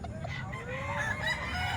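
Chickens for sale at a busy poultry market in Kalumpit give overlapping clucks and squawks against a dense background din, fairly near and steady throughout.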